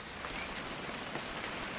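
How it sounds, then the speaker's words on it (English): Steady rain patters and hisses continuously across a surface in the video game What Remains of Edith Finch, an even wash of sound with no voices. "It's gonna rain the whole weekend, isn't it?"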